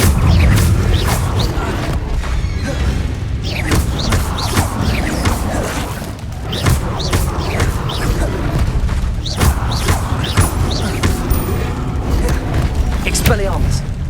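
A Revelio spell is cast in Hogwarts Legacy amid loud, continuous game combat: repeated heavy booms and crashes across the whole stretch, with the magical cast blended into the dense action.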